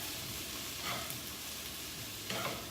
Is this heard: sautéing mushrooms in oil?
yes